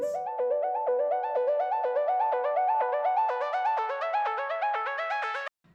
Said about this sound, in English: I blended it with this ARP, which sounds like this